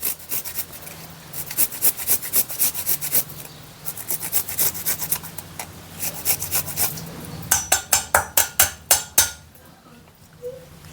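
A piece of food is rubbed against a kitchen grater for aloo paratha, giving rapid rhythmic rasping strokes close to the microphone, with a louder quick run of strokes near the end.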